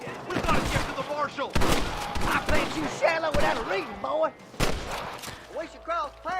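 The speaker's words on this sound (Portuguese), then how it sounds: "Às vezes eu dou um tiro só com essa carabina aqui e já acabo com o inimigo" Carbine gunshots ring out in the Western video game Red Dead Redemption, sharp isolated blasts spaced a second or more apart amid game music and someone talking over the action.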